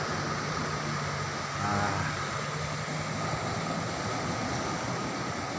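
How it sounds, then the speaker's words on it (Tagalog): Waves wash onto a seashore near a hillside mining area, a steady broadband roar of surf mixed with wind buffeting the microphone, fairly quiet and continuous with no voices. "Ito ang kanilang tabing dagat."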